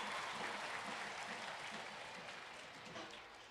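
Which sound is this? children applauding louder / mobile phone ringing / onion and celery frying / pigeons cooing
children applauding louder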